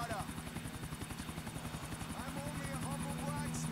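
An out-of-control helicopter in the video game GTA IV, its rotor chopping in a steady rapid pulse under a continuous engine whine, loud and close, with brief bits of voice over it.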